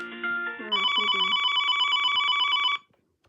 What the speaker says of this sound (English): this is ringtone 1